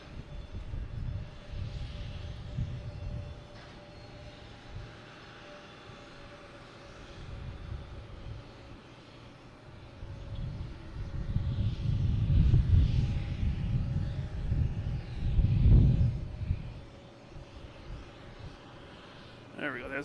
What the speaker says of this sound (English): next taking off, we should have a Delta heading to Atlanta